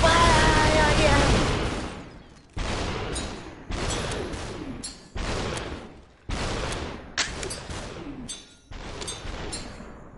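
Gunfire in the slow-motion shooter game Superhot: a series of loud, sharp shots spaced a second or two apart, each with a brief tail, repeating evenly across the stretch.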